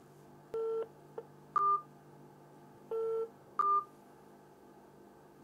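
Phone call to a hospital that fails to connect, heard as paired telephone tones repeating in a regular on-off pattern with short pauses, clear and close over a faint hum.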